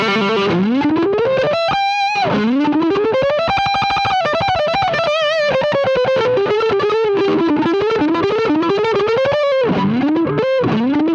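Vox AV30 modelling tube amp on a high-gain overdrive setting, a heavily distorted electric guitar playing sustained bends and riffs with thick saturated tone, loud and continuous with brief choppy gaps.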